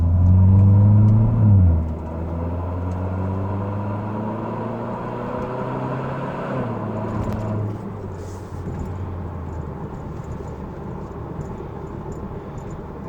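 Kia Stinger with an aftermarket axle-back exhaust, heard from inside the cabin as a steady low engine drone that swells early, settles, then eases into a constant rumble.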